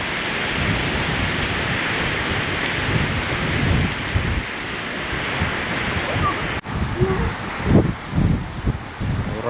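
Loud, steady roar of gusting wind from an approaching storm filling the whole clip, with brief dips and surges near the end as the gusts shift.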